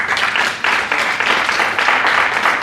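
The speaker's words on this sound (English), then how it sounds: "let's give them a round of applause" An audience at a student leadership academy winter workshop gives a round of applause, a dense, steady wash of clapping with some uneven surges, lasting the whole stretch without talk.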